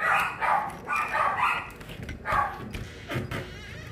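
A dog in a crate barks in a series of loud, close, repeated yaps and woofs, some bursts clustered rapidly, with a few brief whimpers.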